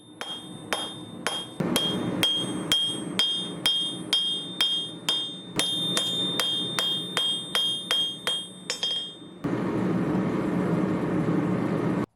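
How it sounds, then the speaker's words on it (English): Hammer forging 5160 steel into a wood turning chisel: a steady run of about twenty sharp, ringing metallic blows, each with a bright tone, close up and loud, then a stretch of broad, even forge or machine noise at the end. "forge this down to about 1 inch across"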